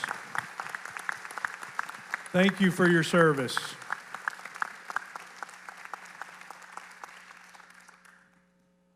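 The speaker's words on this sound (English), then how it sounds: "Let's acknowledge them with a big round of applause." A meeting audience applauds veterans who stand up at a homeowners' association gathering, steady clapping filling the room for several seconds before fading out, with someone speaking briefly over it.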